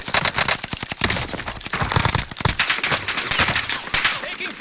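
Rapid gunfire in the video game Call of Duty Warzone Pacific, loud and close, comes in repeated bursts of sharp shots throughout with brief pauses between volleys.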